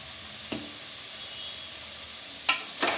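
Mutton chilli fry being turned in a pan, with a few short sizzling scrape bursts: one at the start, then two close together near the end, standing out above a quiet steady hiss.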